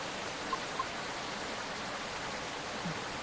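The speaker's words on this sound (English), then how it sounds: "Christ, stupid rain." Steady rain hisses in the video game Coffee Talk. It is a soft, even wash of noise with a few faint drips near the start.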